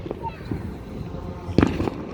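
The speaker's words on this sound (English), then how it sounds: "And there's the fireworks over there." Fireworks at an outdoor show boom in the distance, with a few soft thuds and then a sharper, louder burst as voices murmur nearby.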